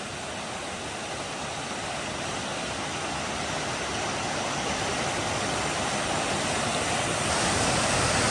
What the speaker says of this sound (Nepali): वाउ बब्बाल छ यो झरना